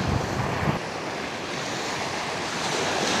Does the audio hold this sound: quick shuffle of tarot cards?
no